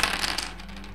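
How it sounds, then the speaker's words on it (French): Dice for a lockpicking test in the HeroQuest board game land hard on a surface with a quick clattering rattle that dies away within a second, close and alone. "on va lancer 4 premiers dés suivis de 2 autres dés pour le premier test de crochetage"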